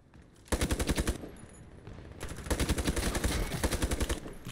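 Training M4 rifle fire in a video game, two loud rapid-fire bursts of sharp automatic shots, separated by a short lull.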